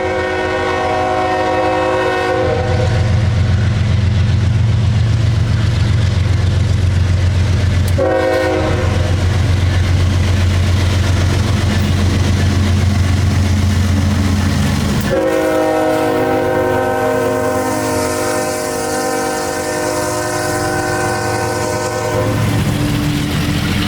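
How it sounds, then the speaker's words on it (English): A coal train in Tampa crosses a road, sounding three long, loud horn blasts over the steady rumble and clatter of its passing cars. "this would end up being the first and last time that I would ever see a coal train cross this road."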